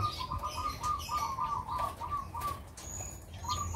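Pigeons in flight in a loft or cage, giving a continuous flutter of flapping wings close by, with soft cooing and chirps layered over a dense, busy background.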